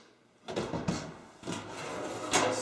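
The drawer beneath a kitchen stove slides open and shut with several scraping, rumbling strokes and a few knocks, close by and moderately loud, with no talking.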